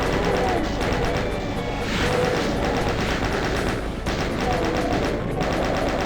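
Sustained rapid chaingun fire in Doom, a loud continuous rattling stream that runs through nearly the whole stretch with only brief dips.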